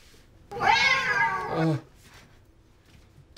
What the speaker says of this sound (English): I didn't know you had a cat.